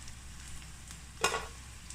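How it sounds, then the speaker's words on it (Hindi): Okra pieces frying in oil, turned and cooked on both sides for masala bhindi, give a faint steady sizzle with one brief, louder crackling burst near the middle as they are moved. "ये देखिए जी माशाल्लाह भिंडी दोनों साइडों से फ्राई हो चुकी है।"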